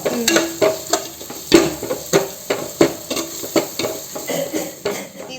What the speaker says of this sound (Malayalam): രണ്ട് സ്പൂൺ മല്ലിപ്പൊടി ഇട്ട് കൊടുക്കാം രണ്ട് രണ്ടര ഇടാം നന്നായി ഇളക്കി കൊടുക്കുക